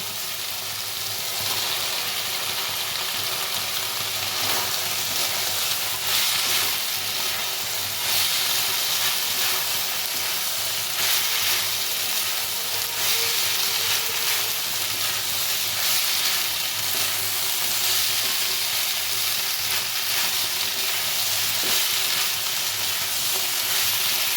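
A cooked-down spice paste sizzles in a kadai with fried potatoes added for a radish and green pea curry, a continuous loud hissing fry with steam, steady and close for the whole stretch, with no talk.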